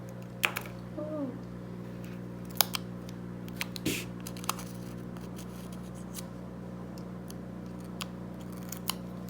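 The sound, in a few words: scissors trimming excess tape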